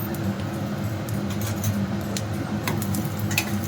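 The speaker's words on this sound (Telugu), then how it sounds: "స్టవ్ మీద ఒక ప్యాన్ పెట్టేసుకొని పల్లీలు వేసి వేయించుకుందాం" Peanuts dry-roast in a pan on a stove, giving a steady sizzle with light ticking and rattling as they are stirred, close and moderately loud, with no talking.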